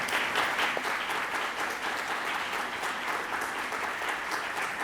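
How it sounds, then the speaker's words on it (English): An audience applauds the speakers, Reverend Tutu and Colleen Marshall, after a discussion event, with a continuous, even roar of many clapping hands at a moderate distance. "Give them a applause."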